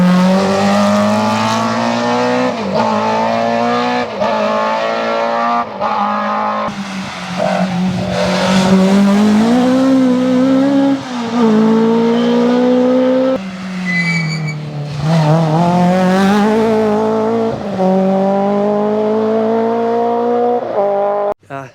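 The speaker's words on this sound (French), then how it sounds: "Ça c'est la RSR. Qu'est-ce que j'aime cette voiture, écoutez ce bruit." A Porsche RSR rally car at the Rallye Côte Fleurie 2024 works through a chicane near Beaumont, its engine loud and close, rising and falling repeatedly through gear changes and braking, with tire squeal.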